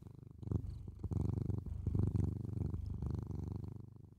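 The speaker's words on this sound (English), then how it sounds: "He's purring." A cat purrs close up in a steady, rhythmic, low rumble with a soft pulse on each breath, continuous for several seconds with no talking.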